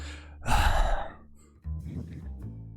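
A tabletop game master voices a heavy, drawn-out breath, a loud sighing exhale up close followed by a second, softer breathy sound, imitating a caller breathing on a phone message.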